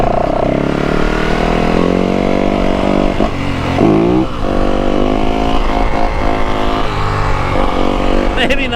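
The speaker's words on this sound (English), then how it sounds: "Take a little getting used to the old WR 450." A Yamaha WR 450 dirt bike engine roars loudly and close throughout, revving up and down as it rides with shifting throttle.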